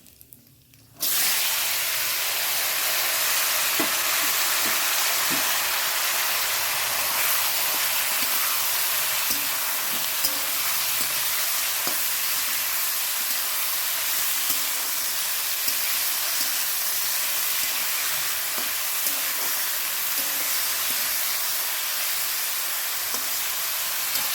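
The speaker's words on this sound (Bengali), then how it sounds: "আলুটা ভাজা হয়ে এসছে" Potatoes frying in a pan with dried red chilli and black cumin give a steady, loud hiss and sizzle that runs continuously after a brief quiet start, with no voices.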